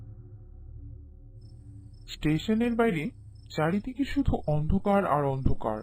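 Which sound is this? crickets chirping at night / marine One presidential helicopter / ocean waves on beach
crickets chirping at night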